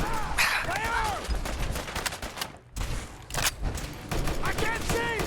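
Gunfire in Fallout 4 combat comes as rapid bursts of loud shots and impacts, with a brief lull midway before more volleys, mixed with shouting voices.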